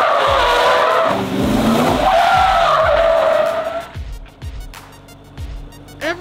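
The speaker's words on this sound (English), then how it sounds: "he's spinning that car around" Tires screech and squeal as a car skids and drifts at around 100 km/h, spinning around, engine roaring loudly, then the squealing fades into lighter engine and road noise.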